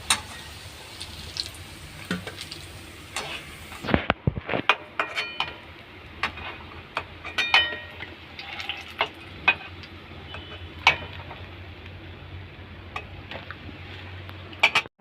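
Jackfruit koftas fry in hot oil, giving a steady sizzle and crackle with frequent sharp clicks and taps of a utensil against the pan. The sizzle is loud at first and settles lower, with no talking.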